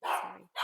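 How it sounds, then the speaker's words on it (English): A dog named Cotton barks at something out on the street, two short sharp barks close by in quick succession, with a brief spoken word alongside. "don't know if you can hear Cotton barking."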